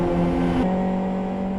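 Race car in a GT racing video game, heard as a steady, loud engine drone with a brief shift in pitch partway through, consistent with a flat-shift gear change.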